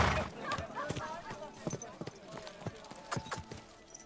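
A horse trots in a video game with a steady clip-clop of hooves, moderately loud under people talking casually.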